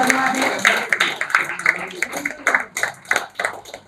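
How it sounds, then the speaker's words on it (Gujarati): An audience at a Gujarat Chamber of Commerce yoga and Ayurveda event claps to welcome a guest, a run of uneven rhythmic hand claps mixed with voices. "આ બધા એમની તાળીઓથી ગડગડાટથી એમનું સ્વાગત કરશો"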